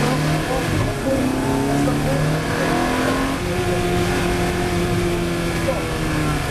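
Ferrari F430 Challenge race car accelerating hard, its engine note climbing in pitch through rising sweeps with a shift partway, loud and close, the revving sustained throughout.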